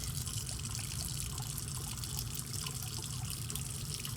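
Tap water runs steadily into a sink while hands are rinsed under it, a constant close splashing with no voices.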